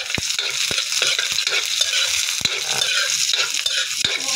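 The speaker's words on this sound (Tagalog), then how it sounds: "Yan lang natin na magkulay golden brown ng ating sibuyas at bawang" Onion and garlic sauté in oil in a pan for a Filipino pinakbet-style vegetable dish, a steady close sizzle broken by repeated sharp scrapes and knocks of a spatula stirring against the metal.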